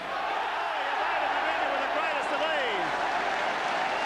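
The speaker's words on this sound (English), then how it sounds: "Crowd applaud that. They loved it." A rugby league crowd at a St Helens versus Australia match applauds steadily, a dense, sustained wash of clapping and crowd noise with faint whistles or calls rising through it.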